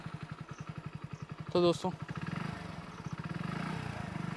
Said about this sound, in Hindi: अब बाइक को कर देता हूँ स्टार्ट।